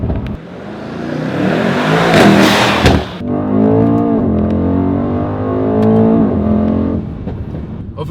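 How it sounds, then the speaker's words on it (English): A Mercedes-AMG E63 S V8 engine revs hard with a deep, muscular roar, climbing in a loud burst, then settling into a strong, steady drone with rising and falling pitch as the car accelerates close by. "It's such a deep V8 muscly noise"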